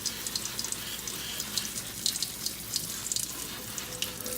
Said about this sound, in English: I'm just gonna water it again.